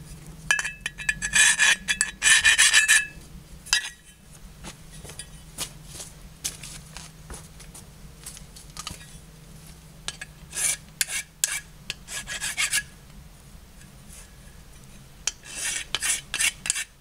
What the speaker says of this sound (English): you have to take that out with the file well flattened